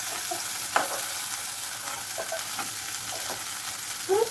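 Vegetables fry in hot oil in a wok, a steady bright sizzle broken by a few scraping stirs of a utensil, close and continuous with no talking.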